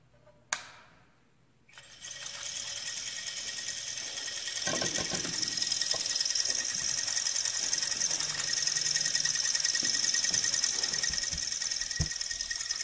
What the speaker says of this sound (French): On remarque de nouveau le changement du sens de rotation du moteur.